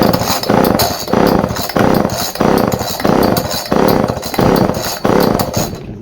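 A Homelite chainsaw that will not fire, pull-started again and again: loud rasping bursts about once a second from the recoil cord and turning engine, with no catch or running engine sound.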